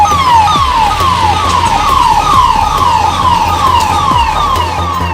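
An ambulance siren wails loud and close amid a riot in Amravati, Maharashtra, its rising-and-falling tone repeating in quick cycles over a low rumble of road traffic.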